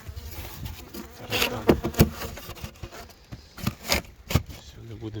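Bees buzzing around beehives during hive work, close and intermittent with sharp swells as insects pass near, with some background handling noise.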